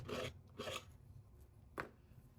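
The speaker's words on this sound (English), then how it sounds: "Let's come back in with our palette knife. We can also scrape away." A palette knife scraping paint across canvas in abstract painting, three short faint rasping strokes, the first two close together and the last one quicker, with no talking.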